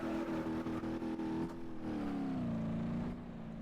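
The small Ibishu Pigeon car in BeamNG.Drive pulls away from a standstill, its engine revving steadily with a buzzy tone that rises, briefly dips at a gear change, then settles, close and alone without talk.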